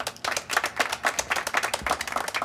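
A group of people clapping in a scene set in the Ottoman palace, a burst of sharp, uneven handclaps that is steady and close, with no talk over it.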